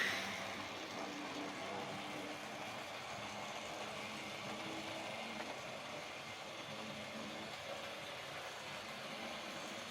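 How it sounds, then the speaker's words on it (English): A 49-year-old Hornby GWR Albert Hall model locomotive pulling away on its track, its small electric motor giving a faint, steady whir that runs unbroken for the whole stretch. "Obviously you can hear the motor going on it"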